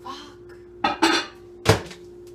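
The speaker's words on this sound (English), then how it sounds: "So the bowl keeps bonking into the microwave and it's loud and jarring." A mixing bowl clunks against a microwave three times, sharp and close, over a steady low hum.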